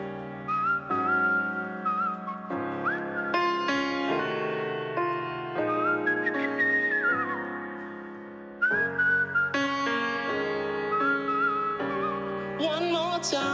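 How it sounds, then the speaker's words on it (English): A person whistles a run of short, detached staccato notes, bright and close, in quick clipped bursts that jump between pitches with brief gaps. "whistling staccato notes,"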